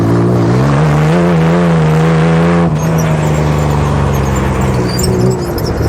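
A Subaru Baja engine revs hard on a race track, loud and close, its pitch climbing steadily before dropping on a shift and building again under a steady drone.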